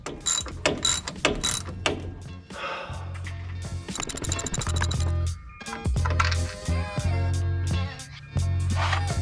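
Ratcheting wrench turning a bolt out on a 1984 Mitsubishi Jeep, rapid clicking pawl bursts repeating in steady runs with brief pauses, close and fairly loud, no talk.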